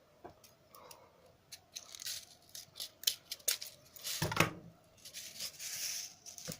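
Scissors snip through a small piece of material while an RDA coil build is being assembled, giving several crisp close cuts with short pauses and small handling rustles between them.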